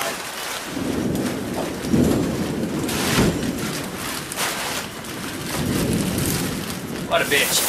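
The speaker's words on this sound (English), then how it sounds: "Well, I tried to beat the rain." Heavy rain pours down outdoors beside a plywood deer blind while thunder rumbles and rolls repeatedly in the distance, a steady loud downpour throughout.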